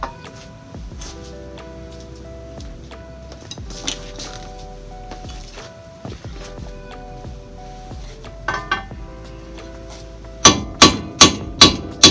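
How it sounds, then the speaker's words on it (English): Hammer tapping parts out during a big brake upgrade on a Honda Acty, with five sharp metallic strikes in a steady rhythm near the end, following quieter clanks and a background music bed. "So we're gonna hammer these back"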